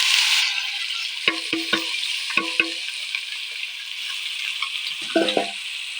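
Food frying in oil in a pan sizzles steadily up close while a utensil stirs it, scraping and knocking against the pan in short clustered bursts.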